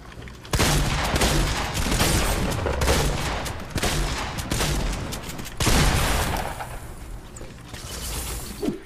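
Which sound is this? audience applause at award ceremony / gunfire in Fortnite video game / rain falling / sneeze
gunfire in Fortnite video game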